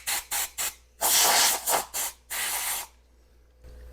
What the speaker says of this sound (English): Okay, blow it out with the air compressor.